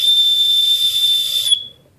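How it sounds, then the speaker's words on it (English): A whistle built into a fire starter striker gives one loud, steady, high-pitched tone lasting about a second and a half, then cuts off abruptly, leaving near silence. "And it also has a whistle built in."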